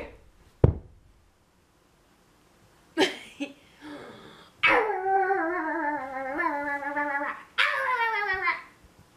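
A dog whimpers and howls in drawn-out, wavering cries after a brief sharp sound, with quiet gaps between the calls, close and fairly loud.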